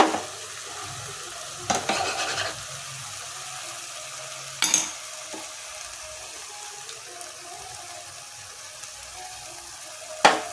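Whisked sour yogurt goes into a low-flame pan for fennel-spiced paneer, with a soft, steady sizzle broken by a few sharp spoon-scrape and clatter bursts of stirring; no speech is heard.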